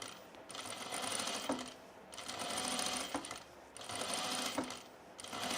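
A Bernina sewing machine stitches in quiet bursts of rapid mechanical whirring, three separate runs split by short pauses, with a faint clack at the start of some runs.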